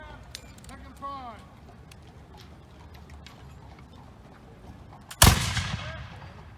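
A single loud black-powder gunshot from a Colonial Williamsburg firing demonstration cracks out sharply near the end, with a decaying rumble after it, following a stretch of quiet crowd murmur and faint background voices.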